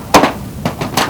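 Hammer driving a chisel through a mobile-home roof: three or four sharp, close strikes spaced unevenly, each a bright crack with a short rattle, no talk.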